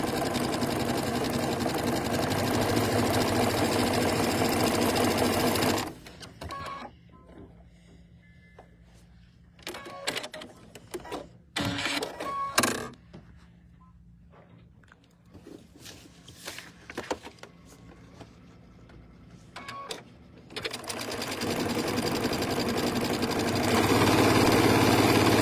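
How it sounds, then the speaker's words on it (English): A sewing machine stitching a quilt block along both diagonals, a quarter inch from each side, runs loud and steady, stops for a long stretch of quiet handling clicks and rustles, then whirs again at the end. "we're going to stitch 1/4 of an inch from either side of both diagonals"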